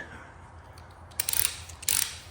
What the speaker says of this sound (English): Always, always unwind your torque wrench, okay?